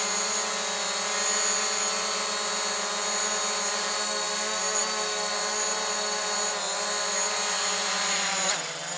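A DJI Mavic drone landing on a homemade landing pad, its steady high-pitched propeller whine holding close and loud before the motors cut off abruptly at the end.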